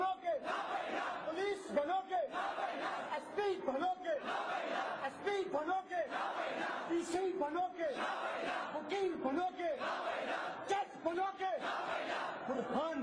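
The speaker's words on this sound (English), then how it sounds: "again they got an energetic yes from the crowd" Rally crowd roaring a chant in rhythmic, repeated energetic shouts, a dense mass of voices rising and falling in waves throughout, loud and sustained.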